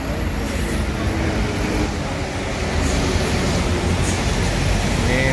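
Old Adi Putra Jetbus 3 buses at a bus terminal, giving a loud, continuous engine rumble and broad traffic noise that holds steady throughout.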